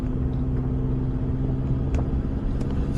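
A Toyota Hilux engine pulling in second gear low range on a small hill, a steady, near, low rumbling drone with a faint tick or two and no talk.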